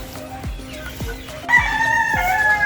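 Young cockerels kept as chicks cluck and call in short repeated bursts, with a brighter crow-like call joining midway, fairly close and alone without talk.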